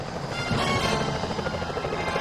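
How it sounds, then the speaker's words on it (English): A security helicopter in the Sly Cooper: Thieves in Time video game makes a steady, loud rotor drone with a dense, rumbling texture that persists throughout without pause. "Those security choppers are bad news."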